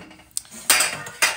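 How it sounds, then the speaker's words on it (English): Metal muffin pans, mini and regular size, clank and clatter as they are handled and stacked in a kitchen, with a soft knock followed by two sharp metallic crashes. "I have my mini muffin pan and then my regular muffin pan and another round mini muffin pan"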